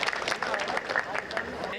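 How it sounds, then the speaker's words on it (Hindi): A crowd at a Hindi kavi sammelan poetry recital claps enthusiastically: loud, dense, continuous applause from many hands close by, holding steady for the whole stretch. "एक बार बहुत अच्छी तालियां बजा करके इस मंच को आप बताएं"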